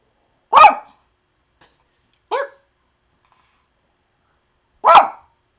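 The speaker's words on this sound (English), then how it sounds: "He does the bark" Dog barking three times, loud and close, with single sharp barks spaced a couple of seconds apart and near silence between them.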